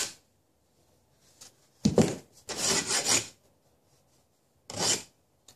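A metal file rasps along the edge of a metal workpiece in a few short, scratchy bursts separated by silence, close and moderately loud with no talking.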